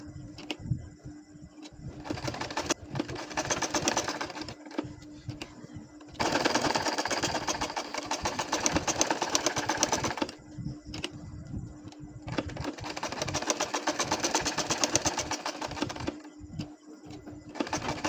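A sewing machine stitches a baby nakshi kantha quilt in several runs of fast, steady needle clatter, some louder than others, close by and with no talk.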